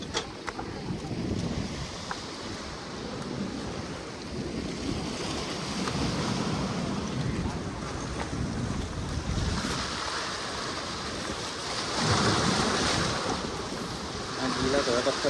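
Sea waves surging and breaking against rocks at Dhanushkodi, a continuous loud roar of surf with heavy wind buffeting the microphone and swelling crashes near the end.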